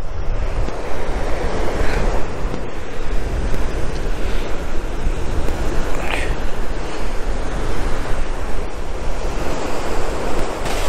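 Sea surf roars steadily on the coast at Land's End beside a tunnel where water pours through, a constant loud wash with wind buffeting the microphone.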